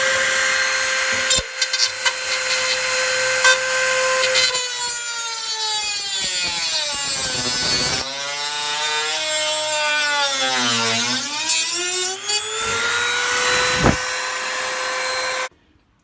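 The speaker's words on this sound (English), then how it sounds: "I'll go ahead and Dremel those off." A Dremel rotary tool grinds off the circuit board supports on a Boondocker 1260 converter. Its motor whine runs loud and steady for about fifteen seconds, and the pitch sags and then climbs back as the bit bites into the material.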